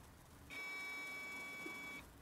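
Steady electronic beep from a pressure setup holding at 10 psi, a single continuous tone of about one and a half seconds, clear and fairly loud against a quiet background.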